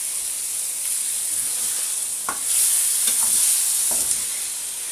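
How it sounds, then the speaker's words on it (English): Chicken in Mexican BBQ sauce simmering on low heat in a pan, giving a constant close hiss and sizzle with a few soft pops and bubbling bursts, no voices. "Now, as you can see, this is bubbling away."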